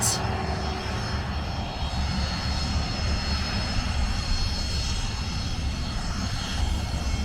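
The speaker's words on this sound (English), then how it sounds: "He's one coming in, but this is a bit of a posher one, isn't it? Like more of a private jet." A small private jet's engines rumble as the aircraft comes in near an airport in Florida, a steady, loud roar with a faint high whine that stays constant throughout, without clear speech.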